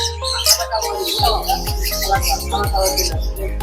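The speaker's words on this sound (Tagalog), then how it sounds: "Mga kalapati, oh" Pigeons outdoors chirping and cooing in a quick repeated series, close and fairly loud, with faint background noise.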